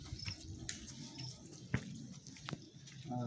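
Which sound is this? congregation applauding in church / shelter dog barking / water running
water running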